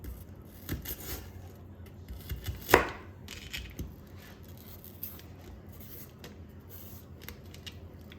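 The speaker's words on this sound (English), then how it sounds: "I'm gonna do some onions again. And this time, I'm gonna let them stay in these rings like this." A knife chops onions into rings on a cutting board, giving steady close taps and slicing crunches with one sharper knock partway through, set against a low room hum.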